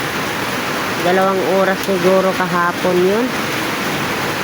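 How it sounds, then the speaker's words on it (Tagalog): A constant wash of heavy rain fills the background while a person speaks briefly over it in the middle. "Ayan na naman ang ulan."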